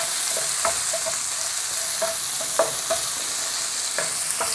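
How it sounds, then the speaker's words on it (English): Garlic frying in a pan as the heat is turned up, a constant close sizzle broken by scattered scraping taps of a utensil stirring it; no one speaks. "And now we can put the garlic in and start turning up the temperature a little bit more."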